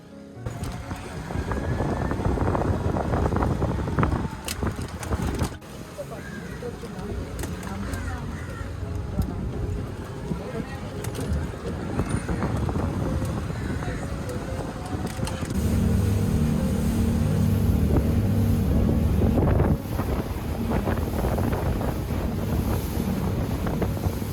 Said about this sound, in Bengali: চেক আউট করে আমরা স্পিড বোটের দিকে রওনা হলাম